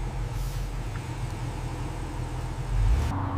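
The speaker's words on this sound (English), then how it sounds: "The engine comes alive." A car engine on a factory assembly line: a steady, fairly loud low engine rumble with a heavier surge near the end and a brief hiss partway through, set against factory background noise and without talk.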